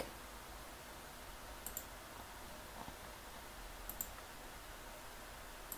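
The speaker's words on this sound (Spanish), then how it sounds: "Voy a volver a dar clic." Mouse clicks sound while working in Revit, a handful of faint, sharp, isolated clicks spread over a quiet background hiss.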